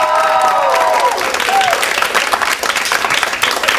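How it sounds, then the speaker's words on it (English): A room of hospitality and tourism students and guests applauds a food promotion, loud close clapping with a steady crowd roar, while a voice talks over the start. "So I think you all deserve a round of applause."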